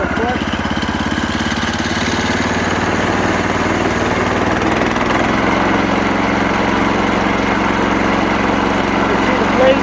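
Small gasoline engine on a Woodland Mills HM126 portable bandsaw sawmill idling steadily and close, a continuous even drone that stays constant with no revving.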